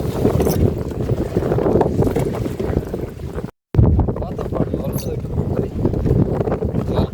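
Strong waves and gusting wind strike a small fishing boat on a river in the Sundarbans, giving a loud continuous buffeting roar and splashing with brief wind bursts on the microphone, broken by a short dropout.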